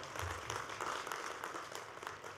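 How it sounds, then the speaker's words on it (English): A crowd at a university commencement ceremony applauding steadily, a dense wash of clapping that holds at an even level throughout with no voices on top. "Give her a round of applause"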